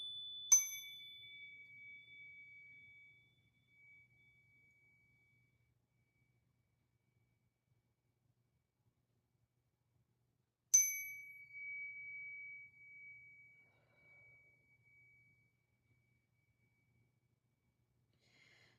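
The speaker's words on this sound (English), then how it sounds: "More with my high frequency chimes." High-pitched chimes struck twice during a healing session, each bright ring sustaining and slowly fading into near silence before the next strike.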